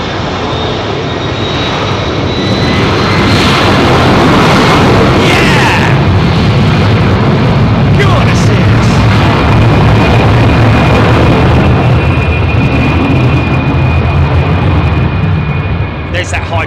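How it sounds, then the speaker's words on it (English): An Air Canada Boeing 777 departs Heathrow's runway 27R with a loud, sustained engine roar carrying a thin, high-pitched squeal. The roar stays powerful and close throughout, with people talking over it. "There's that high-pitched squeal I was talking about. Air Canada's 777."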